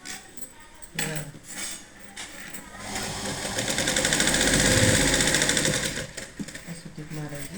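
Sewing machine stitching a blouse, a whirring mechanical run that swells and fades across the middle after a few short bursts, with a voice speaking over parts of it.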